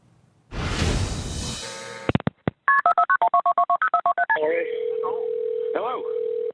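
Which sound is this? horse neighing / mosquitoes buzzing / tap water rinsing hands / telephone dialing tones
telephone dialing tones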